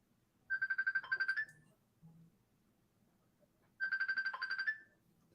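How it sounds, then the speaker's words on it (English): A mobile phone ringtone plays two short bursts of rapid, bright electronic tones about three seconds apart, moderately loud over a quiet room. "Hey, what's going on my phone? Whose phone is that?"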